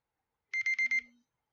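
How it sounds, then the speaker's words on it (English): A timer alarm goes off with four quick, bright electronic beeps in a rapid burst, followed by a brief fading tail and then silence. "let me set the timer to 1 second"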